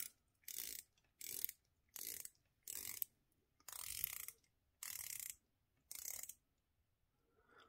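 The rotating dive bezel of a Retangula R4 Skin Diver watch ratchets in seven short bursts of fine clicks with quiet gaps between them, very close and otherwise silent.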